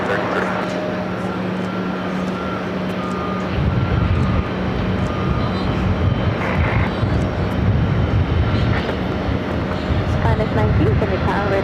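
An airliner takes off from runway 13 right at JFK, a steady broad engine roar that swells and grows louder partway through, with air traffic control radio talk over it.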